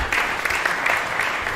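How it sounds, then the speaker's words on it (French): An audience at a book presentation event applauds loudly, a dense continuous burst of clapping filling the short moment with no speech over it. "sous vos applaudissements, Monsieur Kitoko"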